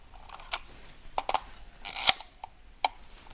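A vintage Agfamatic 126 film camera clicks and ratchets close up, with a series of sharp mechanical snaps from the shutter firing and the film winding in a quiet room.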